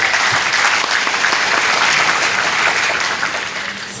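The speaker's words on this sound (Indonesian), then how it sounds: "Tepuk tangan untuk kalian." Dense, steady audience applause rolls through an Islamic college graduation ceremony hall, a thick wash of many hands clapping together that eases slightly near the end.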